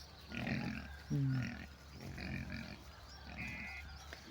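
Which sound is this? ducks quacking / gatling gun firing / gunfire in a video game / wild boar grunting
wild boar grunting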